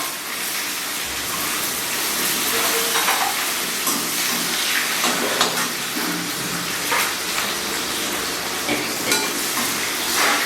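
Cumin, fennel, dried red chillies, curry leaves, green chillies and shallots fry loudly in hot oil for a broad bean curry, a dense continuous crackle and sizzle with occasional spoon scrapes and no speech.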